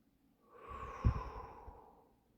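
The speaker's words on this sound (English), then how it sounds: "Breathe in and breathe out." A person breathes out slowly during calm breathing meditation: a single soft, airy exhale that swells and fades over about two seconds, close and quiet, with no talking.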